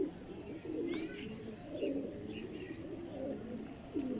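Pigeons kept by a breeder coo in low, repeated rolling calls, close and steady throughout, with a few faint higher chirps above.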